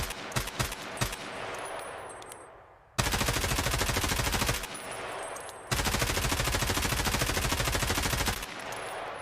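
Bursts of automatic gunfire from a weapon in the video game Escape from Tarkov, loud and sustained in two long runs of rapid shots, following several scattered single shots.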